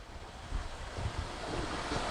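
Rinse water swirls and streams down the window inside an ST-240 SRD tool as a rinse cycle runs, giving a steady, close rushing wash with soft surges.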